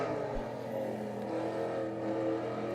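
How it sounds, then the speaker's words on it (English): Race cars on a circuit in coastal dunes near the sea, a continuous engine drone with shifting revs that holds steady at moderate distance for a few seconds. "If you are on the beach, you can really hear the sound of these cars."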